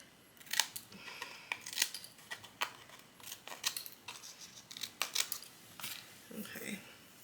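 Scissors snip paper pieces off the top of a handmade baby shower card in a string of quiet, crisp cuts at an irregular pace, with faint rustling between them.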